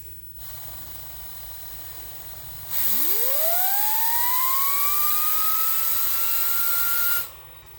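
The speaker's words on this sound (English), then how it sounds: "Crank her up. We're running on 60 psi air." An air-driven jig grinder running on 60 psi shop air in a Bridgeport mill spools up from a steady background hiss into a loud, rising jet-like whine that holds steady for several seconds, then cuts off sharply.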